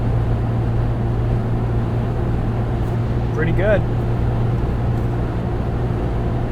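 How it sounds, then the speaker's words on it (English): Steady low drone of a 2.7L V6 Ford Bronco with an MRT axle-back exhaust cruising at 70 mph on the highway, a smooth hum with road and wind noise, while a person briefly speaks. "Yeah, definitely a more mature exhaust setup"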